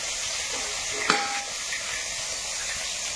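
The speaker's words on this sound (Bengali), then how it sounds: "বড় বড় মাছের পিস গুলো আগে ভেজে নি" Large pieces of snakehead fish fry in hot oil, giving a steady, close sizzling hiss that runs throughout, with a brief stirring scrape near the start.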